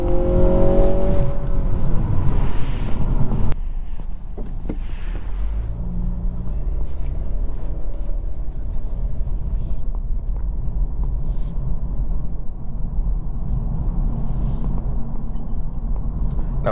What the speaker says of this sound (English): in the first few feet of driving the Integra, I do have to say though, I do like how it drives